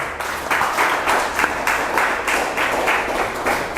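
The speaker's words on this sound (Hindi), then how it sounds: "ऑडियंस के लिए जोरदार तालियां हो जाए" Audience at a school quiz competition claps in a sustained burst of applause lasting a few seconds, fairly close and steady with rhythmic pulses, no talking over it.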